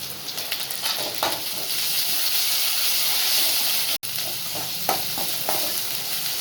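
Green chili, curry leaves, ginger and garlic sauté in hot oil, a dense continuous sizzle and hiss with occasional stirring scrapes, heard close and loud without speech.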